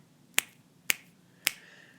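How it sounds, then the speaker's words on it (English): Three crisp finger snaps ring out alone in a quiet room, evenly spaced about half a second apart, each sharp and close. "I'm going to snap my fingers 3 times right now"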